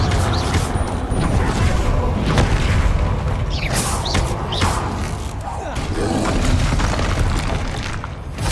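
Repeated blasting-curse explosions in Hogwarts Legacy, booming one after another over a constant loud rumble of combat effects, with a voice calling out spell names throughout.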